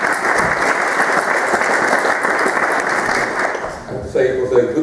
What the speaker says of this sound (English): I think we have to repeat the applause for the meeting.